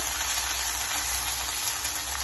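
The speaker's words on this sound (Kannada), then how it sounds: "ಈರುಳ್ಳಿ ಹಾಕ್ಬಿಟ್ಟು ಈ ಥರ ಫ್ರೈ ಮಾಡಬೇಕು" Onions sizzle in a hot pan while frying for carrot palya, a steady, close, even hiss that continues without pause and with no voices.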